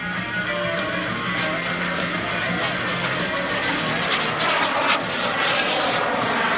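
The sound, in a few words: SubSonex mini jet airplane flying at airshow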